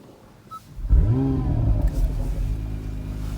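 An Acura NSX engine and exhaust as the car drives off: a quiet idle, then a loud rising rev with a deep, rumbling exhaust note that settles into a steady drone, close by.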